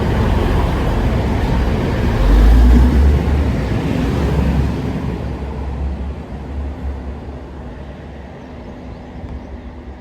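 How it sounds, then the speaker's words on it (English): A Class 185 train bound for Liverpool passes through Dewsbury station, a loud steady rumble that swells early and then slowly fades as it moves away, with no voices. "Next train to pass by"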